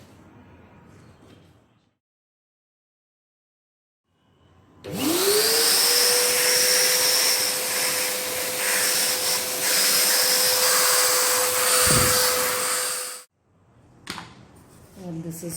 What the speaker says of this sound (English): You can use any vacuum cleaner, even the car vacuum cleaner, you can use it.